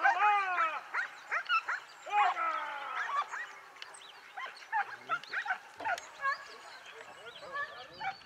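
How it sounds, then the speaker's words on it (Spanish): A pack of hunting dogs barks and yelps in overlapping bursts during a Spanish montería at Encinasola, loud and close at first and then thinning into scattered, more distant yips and whimpers. "la mancha se llena de perros, ladras, cascabeles y voces de los realeros animando a los canes."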